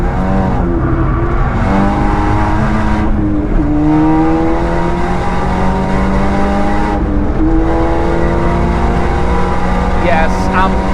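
A Seat Ibiza Cupra engine revs hard and loud from close by as it accelerates around the Nürburgring. The pitch climbs steadily, with clear drops at each upshift, and someone speaks over the engine.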